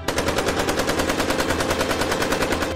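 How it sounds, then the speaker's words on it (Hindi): Rapid automatic AK-47 rifle fire in a dramatized comic battle scene, a steady loud burst of evenly spaced shots running continuously for nearly three seconds with no voices. "आतंकवादियों का निशाना बेकसूरों की भीड़ थी और ध्रुव का निशाना आतंकवादी। गोलियां दोबारा चली,"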